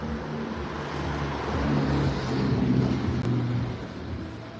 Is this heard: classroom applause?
no